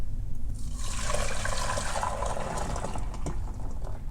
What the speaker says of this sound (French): Une fois que la préparation est homogène, on transvase à nouveau dans la casserole.